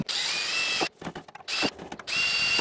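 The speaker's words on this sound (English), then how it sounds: "pre-drill those holes, that way these screws go in without too much of a fight" A power drill pre-drills screw holes in a greenhouse truss, running in three high whining bursts separated by short pauses with light clicks and knocks, close up and without talk.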